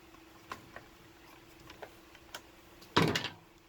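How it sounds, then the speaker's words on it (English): A Nerf blaster's lever ratchets the plunger back, producing a few soft spaced ticks and then a quick louder burst of clicks near the end, close and quiet with no talk. "when you lift this lever, it ratchets the whole thing back."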